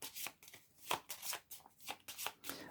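Cards are drawn and handled during a Shadowrun Crossfire tabletop game, making soft, rapid papery swishes and slides in several quick bursts, close but faint.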